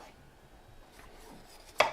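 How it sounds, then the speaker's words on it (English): A knife chops bell pepper on a cutting board, with a few soft cuts followed by one sharp, crisp chop near the end, quiet and close with no talking. "When you're chopping a bell pepper, you just want to make sure not to get any of the ribs or seeds in there."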